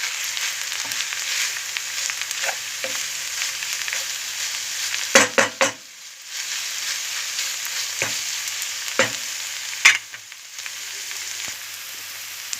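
Tomato paste fries in a pan with a steady bright sizzle, broken by a few scraping stirs and clatters of the spoon, close and continuous for the whole stretch.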